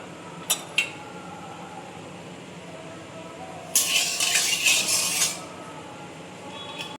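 A kadai (wok) handled in a home kitchen: a couple of sharp metal clinks near the start, then a dense burst of clattering and scraping metal for about a second and a half, and a final faint clink.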